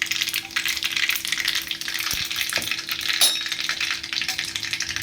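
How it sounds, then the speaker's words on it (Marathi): Mustard seeds, cumin and asafoetida sizzle in hot oil for a tempering, a steady close crackle with a few sharp pops and a clink of a spoon, no voices over it. "आता आपण इथे फोडणी करूया."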